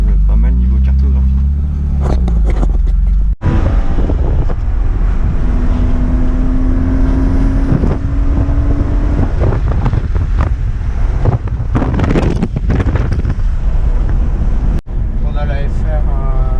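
BMW 325i E36 running on E85 fuel revving and accelerating under load while driving, steady loud engine drone with wind buffeting and brief gear-change dips.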